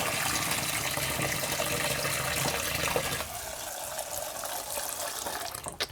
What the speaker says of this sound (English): drained it a couple of times, added the water, drained it